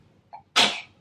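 A single sharp sneeze bursts out at close range after a brief quick intake of breath, loud and abrupt, then trails off in a short breathy hiss.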